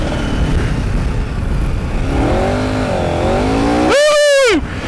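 KTM 1290 Super Adventure R motorcycle ploughing through deep powder, its engine revving up and down in a loud close surge that climbs sharply to a high wail before cutting back.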